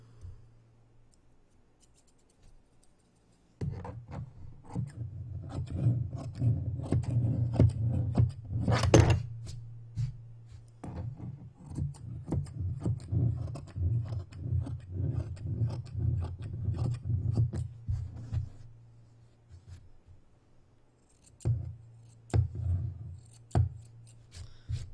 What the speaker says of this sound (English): I'm gonna trim the edge fluff with, you know, my scissors